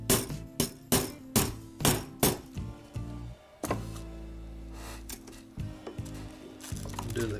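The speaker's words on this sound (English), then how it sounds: "Then we can hammer it home." A series of about seven evenly spaced hammer taps rings out as a bushing is driven into a clock movement plate, followed by a few softer, irregular knocks and metallic clinks nearby.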